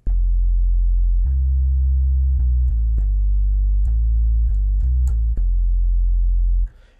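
Deep, loud notes from a custom Fat Sub bass preset in the Bass Master VST plugin run almost without a break, with subtle grit and clicky attacks as the pitch changes in a short bass melody. No voices come in before it fades out.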